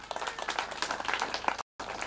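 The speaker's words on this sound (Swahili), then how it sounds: "Tumshukuru tena Mungu kwa makofi." A church congregation applauds together, a dense, steady patter of many hands clapping at moderate distance, broken by a brief silent gap near the end before resuming.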